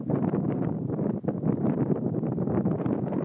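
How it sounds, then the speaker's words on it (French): Wind blowing outdoors in rural Provence, buffeting the microphone as a loud continuous low rumble with gusty swells and no clear pauses. "il y a un peu de vent"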